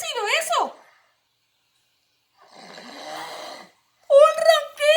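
A cartoon dog snores in a children's bedtime story, one drawn-out snore standing alone in a quiet gap between bursts of lively, exaggerated voices.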